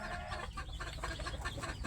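Native village chickens clucking in a steady, close chorus for about two seconds, with no talking.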